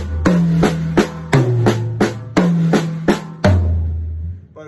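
Tuned tom drums struck in repeating groups of three, each group moving across different pitched drums, played alone with the final hit ringing out.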